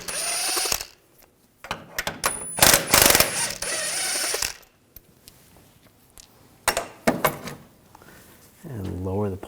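Lower shock bolts come out of a 2007-2013 BMW 328i rear suspension with a 13mm socket, giving bursts of ratcheting and metallic clicks broken by pauses, with handling clatter nearby and a brief voice near the end.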